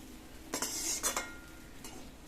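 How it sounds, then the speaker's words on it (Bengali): Metal spoon scrapes and clinks against a pot while stirring frying chicken, in a few short bursts over a faint frying sizzle. "এইভাবে ফ্রাই করছি"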